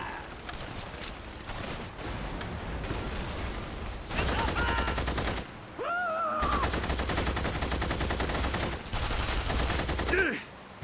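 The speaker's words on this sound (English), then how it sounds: "Gunfire!" Gunfire in the video game The Saboteur bursts in rapid, repeated volleys, loud and close, with short pauses between strings of shots and a brief voice shout.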